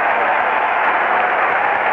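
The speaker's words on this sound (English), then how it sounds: "Once again, a standing ovation." A baseball crowd at a World Series game gives a standing ovation, a dense, steady roar of clapping and cheering that holds at constant loudness with no break.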